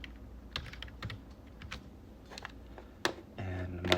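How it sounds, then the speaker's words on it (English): Keys clack on a computer keyboard as a command is typed in 3D modeling software, a series of irregular close taps followed by a quick burst of keystrokes near the end. "So I'll type sweep 2."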